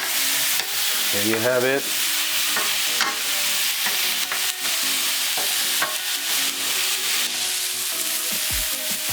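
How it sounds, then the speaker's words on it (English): Wine hits a hot pot for a chickpea and shrimp dish, giving a loud, dense, continuous sizzle with constant stirring and scraping throughout. Someone speaks briefly over it. "I just use the wine to deglaze the pot."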